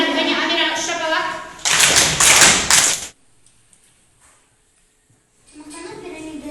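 Second-grade pupils in a classroom give a pupil a short round of rhythmic claps: a loud, tight burst in the middle, set between a teacher's speech before it and more talk after a brief quiet.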